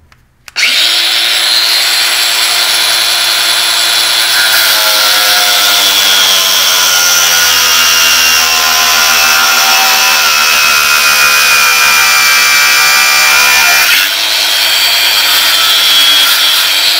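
A power tool cuts through a metal Currie sway bar link to shorten it, making a loud, continuous, high grinding whine for about thirteen seconds with a brief pitch dip near the end, no talking.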